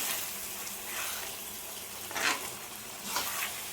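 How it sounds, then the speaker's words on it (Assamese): Steady sizzling of chicken curry frying, with occasional scraping strokes of a ladle against a wok breaking through the hiss. "এই হাতাখনেৰে কেৰাহীখনত অলপ বেছিয়ে শব্দ হয়"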